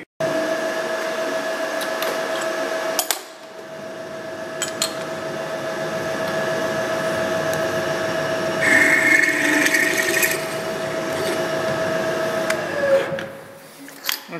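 A drill turns steadily while boring a pivot hole a size larger than the previous bit, the motor whine holding fairly constant with a brief stop early on and a slight strain near the end, up close with no talk.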